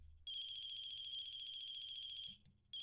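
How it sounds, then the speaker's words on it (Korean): A telephone rings inside a video game, one clear electronic trill held for about two seconds before cutting off, then starting again, heard alone and fairly quiet. "어, 전화벨 소리"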